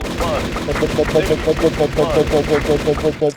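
Rapid bursts of automatic gunfire from a video game, loud and steady over several seconds, with a pulsing rhythm of shots under excited talk.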